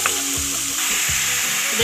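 Chicken pieces fry in oil in a karahi over low heat, a steady close sizzle with scraping stirs and clinks of a spoon against the pan every half second or so, no talk.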